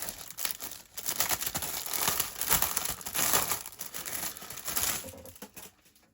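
A plastic bag of beige plastic model kit parts for a Ryefield Panzer IV late production kit crinkles and rustles close by in irregular bursts, with no talk.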